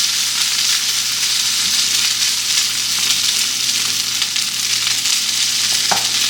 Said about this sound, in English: This time we're going to fry our rice.